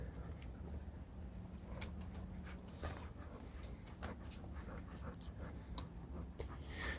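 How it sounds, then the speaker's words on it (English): Pit bull dogs pant and whimper softly nearby, a faint, low-level stretch of breathy panting with occasional small whines over a quiet background. "So just hanging out with a couple pit bulls."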